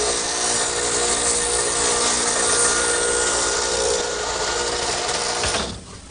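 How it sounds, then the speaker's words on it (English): A stacked dado head cutter set for a 3/4 inch width spins in a radial arm saw, plowing through wood with a loud, steady whirring grind for several seconds before cutting off abruptly near the end. "I've set up my stacked dado head cutter in the radial arm for a 3/4 inch width"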